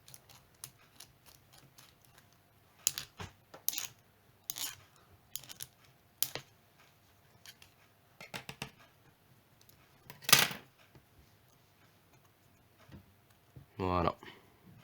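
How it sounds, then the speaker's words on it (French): Scissors twisted inside a mechanical pencil tube to smooth it, giving scattered short scraping and clicking rasps in irregular bursts, with one longer grinding scrape near the end. "Donc vous allez venir passer votre ciseau et tourner comme ça."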